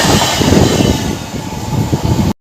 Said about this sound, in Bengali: আজাদ এক্সপ্রেস আর করমণ্ডল এক্সপ্রেস প্যারালাল রেস মারছে।